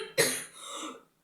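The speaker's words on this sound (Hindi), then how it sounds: "सॉरी खांसी बहुत हो रही" A single close, sharp cough bursts out, trailing into a short rough throat-clearing rasp before silence.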